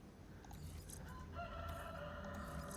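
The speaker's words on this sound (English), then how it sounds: "Wouldn't be KHAPC Gaming without a rooster crowing in the background." A rooster crows faintly in the background, heard over quiet sci-fi game sound effects during a No Man's Sky play session.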